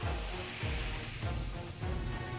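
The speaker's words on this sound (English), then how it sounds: "Listen to that sizzle." Mushrooms sizzle in a hot pan, a dense, even frying hiss that continues steadily with faint low thumps beneath it.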